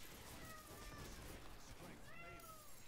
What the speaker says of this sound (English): I heard a kitty.